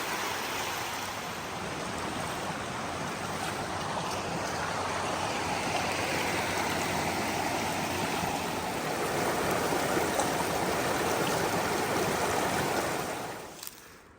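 Continuous rushing of a flowing creek, broad and steady, heard up close, cutting off abruptly at the end.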